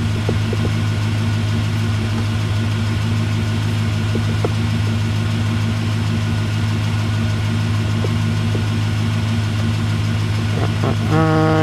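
A car engine idles steadily with a suspected exhaust leak, a low continuous rumble with faint ticking, and a short higher-pitched change near the end.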